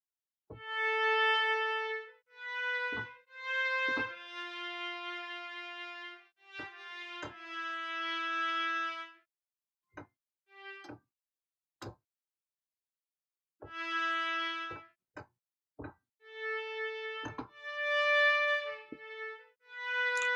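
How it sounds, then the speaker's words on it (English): A piccolo trumpet plays bright, high short phrases of separate notes with pauses between them, clean and fairly close, with no voices. "We'll check out the piccolo trumpet, which is sort of a nice high-sounding thing."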